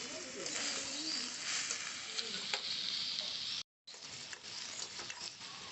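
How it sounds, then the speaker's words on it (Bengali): Banana stem curry being stirred with spices in a pan gives a continuous close frying hiss with scraping strokes and a brief gap near the end, while a voice murmurs faintly underneath. "ভালো করে নেড়ে নিচ্ছি"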